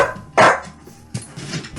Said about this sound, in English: The dogs are about to freak out because someone's knocking at the door